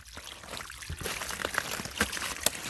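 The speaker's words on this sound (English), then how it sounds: "The gravity pushes water down this pipe," Creek water running by gravity down a pipe into a water ram pump, a close, continuous gurgling pour with small splashes and trickles.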